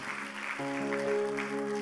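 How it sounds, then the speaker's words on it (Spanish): Applause from a church congregation honoring women, a steady broadband patter that continues as sustained organ-like musical tones come in underneath. "Damos un aplauso fuerte para ellas"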